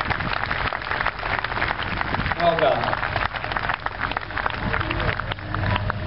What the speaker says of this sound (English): I do give a round of applause